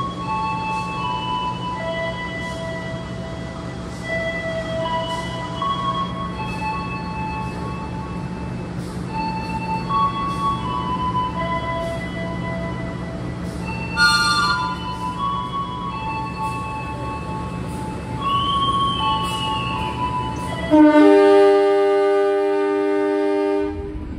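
Kahuripan economy train pulling out of Solo station, with a steady low rumble of the carriage interior and tonal squeals and whines from the wheels. Near the end a louder sustained tone rises.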